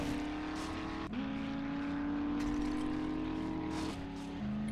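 Steady engine drone of a car driven across rough wasteland terrain in the survival game 7 Days To Die, with pitch shifts as it climbs a hill, a brief dip and recovery, continuous and close with no talk.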